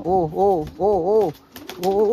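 Racing pigeons in a loft coo close by in a series of throaty, rising-and-falling calls, four or five phrases with short pauses between them.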